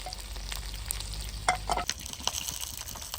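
Fried karimeen fish sizzling in oil in a frying pan, a close, even hiss with a few sharp spatters and clinks near the middle, no voices.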